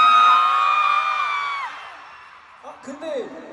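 A concert crowd at a tour sound check in Seoul lets out a high, sustained whooping cheer that fades away, followed by a short burst of talk.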